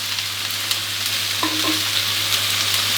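Broccoli and shrimp stir-fried in a pan with seasoning sauce, a steady close sizzle with stirring scrapes, continuous throughout with no talk.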